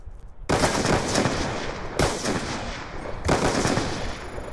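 Gunfire in a first-person shooter video game during quickscoping sniper play, with three sharp loud shots at steady intervals, each followed by a long ringing decay that overlaps the next.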